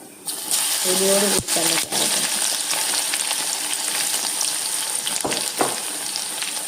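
Crushed garlic cloves, skins still on, sizzling in hot oil for a raw mango side dish: a bright, continuous frying hiss with a few brief stirring knocks, while someone talks.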